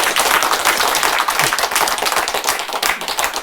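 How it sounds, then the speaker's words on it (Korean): An audience at a Catholic priest's ethics lecture claps loudly and close, a brisk, slightly uneven patter of many hands with distinct individual claps, without speech. "박수 치려면 확실히 치든지 치다 말고"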